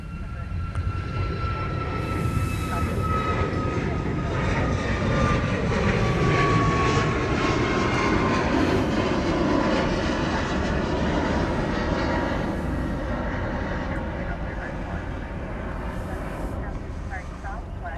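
DHL Singapore Air cargo triple-seven landing on the other runway at Honolulu airport, a steady broad jet roar held at moderate loudness for the whole span with a faint descending engine whine, while people talk quietly over it.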